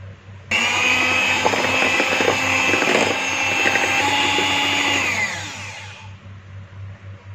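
An electric egg beater whirs steadily through cake batter for a birthday cake, a loud, even motor hum starting abruptly and running about five seconds before winding down and fading out.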